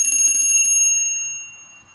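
A bright metallic bell rings in quick repeated strikes, then a sustained ringing tone lingers and slowly fades.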